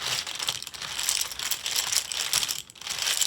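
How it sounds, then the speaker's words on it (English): Tarot tiles being shuffled, a dense continuous clatter and crinkle of small pieces rubbing and knocking together, close and steady with brief dips, no talking. "let's just shuffle our tile set."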